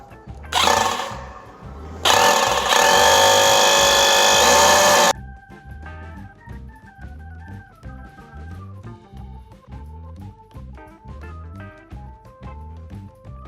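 A power drill bores into a cement floor for plastic wall plugs in two loud, harsh grinding bursts, the second lasting about three seconds, followed by background music.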